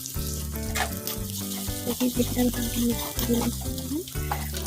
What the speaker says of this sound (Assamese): এইফালে তেল অকণমান দি ইয়াতে মই পিঁয়াজখিনি দি দিছোঁ আৰু ইয়াতে মই কেপচিকামখিনিও দি দিম।